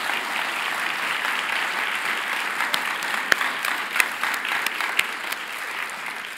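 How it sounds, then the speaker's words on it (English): An audience at a public art event gives the artists sustained applause, with a steady wash of many hands clapping and a few sharper claps standing out near the end. "please join me in a round of applause for all the artists"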